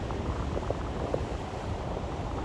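Wind blows across a hilltop on Toll's Hill, a steady, loud, broadband rush with faint gusty fluctuations and no talking.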